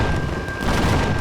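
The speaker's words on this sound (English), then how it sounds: "I love the sound of those flak cannons." Flak cannons firing in the space survival game Empyrion Galactic Survival, a dense, continuous barrage of booming low blasts with no pause, loud and close, under a steady high tone.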